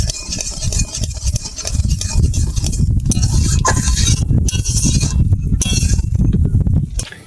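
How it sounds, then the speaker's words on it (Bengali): A spatula stirs milk as it boils in a pan for mango barfi. The close, loud bubbling rumbles continuously, with scraping and clinking of the spatula against the pan mixed in. "খুন্তি দিয়ে একটু ঘেঁটে দেবো ভালো করে"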